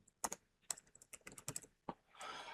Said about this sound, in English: let's press Ctrl P and let's type in Zotero